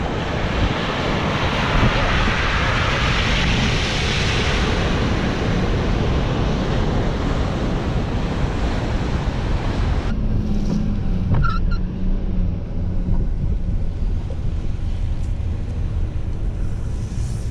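A car pushes through ocean waves on a sandy beach track, a loud continuous rush of surf and water over engine noise, which cuts to a quieter, steadier engine drone partway through.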